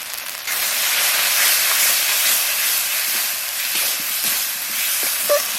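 A spice paste of ground coriander, cumin, Kashmiri chilli and green chilli with salt and turmeric fries in oil, giving a steady, close, loud hiss with faint crackles, no talking.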